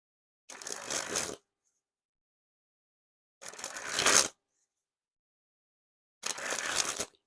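A brand-new, never-shuffled Theory11 Hollywood Roosevelt playing card deck is sprung hand to hand three times, each a close, fast riffling burst of under a second separated by silence.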